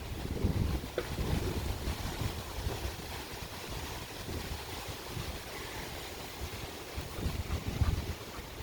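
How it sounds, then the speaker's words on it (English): Steady wind rushes and buffets the microphone throughout, with low gusty rumbles rising and falling but never stopping. "Ooh, is it windy?"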